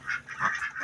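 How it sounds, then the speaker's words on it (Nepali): Chickens in a coop in a rural Nepali setting, a short run of nasal, honking clucks repeating close by, quiet and brief with no speech. "यति कुखुरा छन् है यता, यस्तो छ खोर यहाँ त है।"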